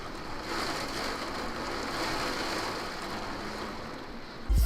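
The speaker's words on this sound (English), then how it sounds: "It just started raining ridiculously hard just now." Heavy rain pouring down outside, a dense, even wash of hiss that holds steady and close throughout with no talking, then a sudden bump at the end.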